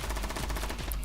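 Rapid automatic gunfire in an online shooter video game, a fast, even stream of close, loud shots filling the whole short burst.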